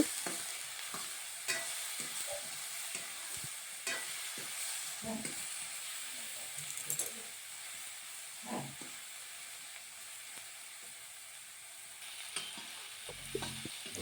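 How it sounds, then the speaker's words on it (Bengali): Quiet, steady sizzling of taro stolons (kochur loti) frying in a pan, with occasional scraping and clinking as a utensil stirs them around. "এবার কচুর লতিগুলো ভালো করে নেড়ে চেড়ে উড়িয়ে নেব"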